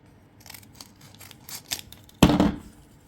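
Scissors trim a piece of paper card in a few quick, soft snips close by, ending with one louder, sharper cut, and no one talks.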